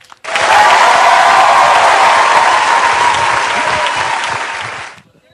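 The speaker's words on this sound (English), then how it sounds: "let's have a big round of applause for Charlie" Loud, sustained applause mixed with some cheering from a crowd in front of the Civic Theater, swelling in quickly and holding steady before fading out near the end.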